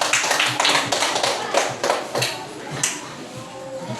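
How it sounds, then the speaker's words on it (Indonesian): Audience applause for a presenting group in a classroom-style training session, a few scattered claps and taps at an uneven rhythm, moderately loud and near, with some faint murmuring underneath. "Tepuk tangan dulu untuk kelompok"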